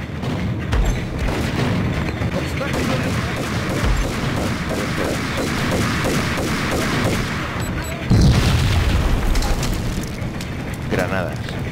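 Gunfire and heavy booms from the Max Payne shooter game, with a loud explosive burst near the eight-second mark standing out from continuous dense combat noise.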